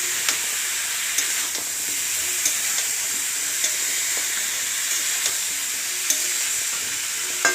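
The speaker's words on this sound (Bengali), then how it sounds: "এই দেখো নুন দিয়ে সুন্দর করে নেড়ে চেড়ে দেবো।" Food frying in a pan with salt added, a steady bright sizzle running throughout while a utensil stirs it, with faint regular scrapes and taps, close and even, no talking.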